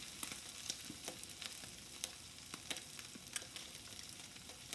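Carnitas sizzle steadily in hot lard after a splash of marinade, with crisp pops and crackles scattered over a constant frying hiss, close and fairly quiet.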